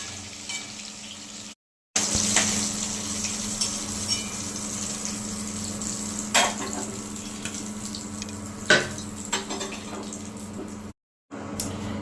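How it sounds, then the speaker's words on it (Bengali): Nigella seeds go into hot oil for tempering, producing a steady close sizzle with a few sharp crackles and clinks, broken by brief gaps of silence. "কালো জিরে ফোড়ন দিয়ে দিলাম"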